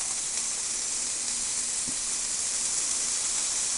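Chopped bacon, about half a pound cut small, sizzles in a pot for a bacon beef stew, a steady broadband hiss that runs evenly throughout with no talking.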